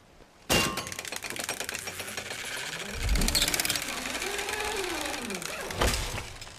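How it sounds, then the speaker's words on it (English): A grappling bolt fires at an anchor point in The Order: 1886, a sharp loud thunk followed by a cable whirring and taut metallic straining, with a second heavy clunk near the end. "Fire the bolt at the anchor point."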